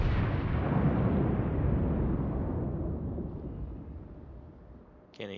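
A heavy battleship gun salvo aimed at the Ibuki in World of Warships booms out loud, then rolls off in a long fading rumble that dies away over several seconds.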